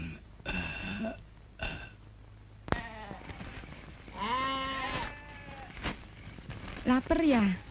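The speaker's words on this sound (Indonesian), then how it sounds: "Dari tadi kambing kita ngebek terus." A goat in an Indonesian film scene bleats repeatedly, several wavering, nasal cries spaced a second or so apart, fairly close, with quiet background noise between calls.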